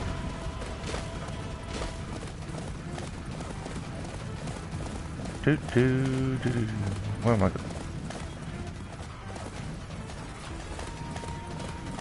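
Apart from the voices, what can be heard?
horse galloping in a video game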